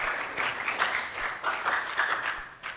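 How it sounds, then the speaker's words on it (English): Applause at a high school end-of-year awards ceremony, a room full of people clapping steadily with slight rises and dips in intensity. "Thank you for the applause"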